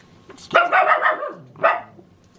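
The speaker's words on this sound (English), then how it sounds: "Sorry about my dog barking." A dog barks close by: one long, rough bark followed by a shorter second one, with quiet gaps around them.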